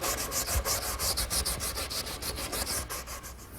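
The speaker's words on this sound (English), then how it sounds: "a little more touch-up sanding and we'll be ready for some finish" Hand sanding on a wooden table, quick rhythmic back-and-forth rubbing strokes, soft but close and steady, with no talk.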